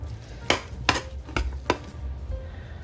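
Rice, beef, mushrooms, cream of mushroom soup and sour cream mixed in a bowl, with four sharp knocks of a utensil against the bowl between soft, thick stirring sounds, close by and quiet.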